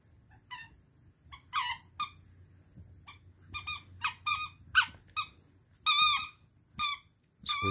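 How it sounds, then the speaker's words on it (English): A Kong Wubba dog toy squeaks in quick, irregular bursts as a puppy chews it, the high squeals coming in pairs and clusters over faint low background noise. "Squeak real good on baby teeth."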